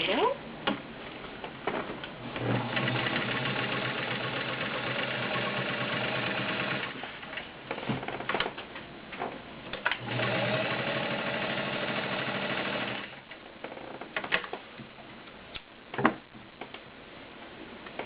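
A heavy-duty Kenmore Model 65 sewing machine with a 1.2 amp motor stitches through ten layers of cotton in two sustained rattling runs, separated and followed by a brief pause and scattered clicks, with a voice talking over it.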